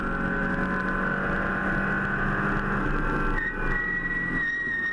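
Racing cars on a track, one giving a high tyre squeal through a corner, heard as a sustained, close, loud engine roar with a steady pitched whine over the top and a slight pitch shift near the end.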